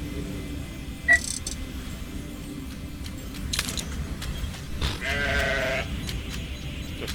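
Sheep bleats from the video game Grow Home, a few short synthetic cries spaced apart over a low steady background, fairly clear and near.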